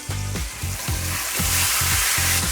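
A T-bone steak sizzles loudly and steadily in a hot pan as it goes back in, with repeated scraping clatters over the continuous frying hiss and no talk.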